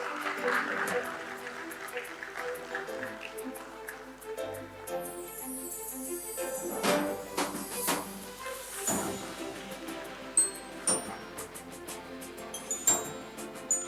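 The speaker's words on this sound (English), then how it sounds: "Ladies and gentlemen, let's keep the claps on." An audience claps at an IPO listing ceremony at a stock exchange, scattered bursts of applause mixed with clinking and background chatter, with an announcer's voice over a busy hall.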